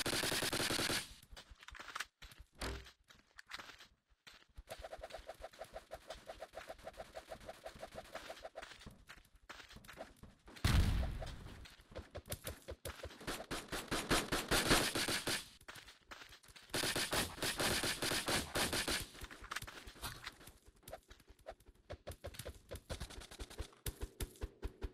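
The VSK-94 rifle in the blocky shooter BlockPost fires in rapid, repeated bursts of loud shots, broken by short pauses, with a few sharp isolated cracks between the volleys.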